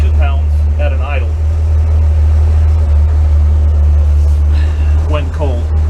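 An engine idles with a steady, loud low hum throughout while someone talks over it in short bursts.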